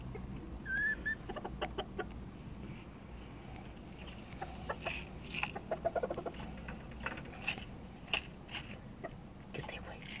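A rooster on a ranch gives a few short clucks and a brief crow-like call over a steady low rumble, with scattered faint clicks and movement sounds around it.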